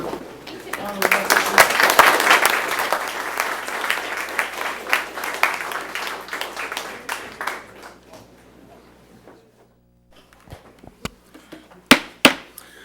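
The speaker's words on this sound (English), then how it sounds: "if you may join me in a big round of applause for Judge Enderman for honoring us." Audience applause at a city council meeting in Geneva, Illinois, a loud burst of clapping that swells for several seconds and then tapers off, followed by a few scattered claps and thumps in a quiet room.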